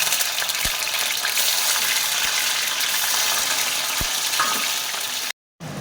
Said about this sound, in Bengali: পনিরগুলো একটু হালকা করে ভেজে নেব।